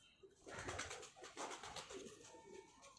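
A slate grey pigeon with red eyes coos in a loft, its soft throaty calls repeating close by over a faint scratchy background.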